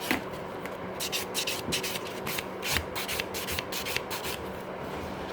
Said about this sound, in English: I can go quicker with the rougher buffer, and then if I want to go smooth, then I will just go like this